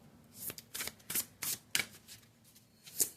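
Tarot cards being shuffled by hand for a pick-a-card reading, a run of crisp riffling bursts and soft slaps in an irregular rhythm, close and fairly quiet with no talking.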